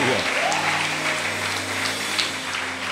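A church congregation applauds and cheers in praise of the Lord Jesus, steady dense clapping held throughout under a sustained musical tone, with a brief voice at the very start.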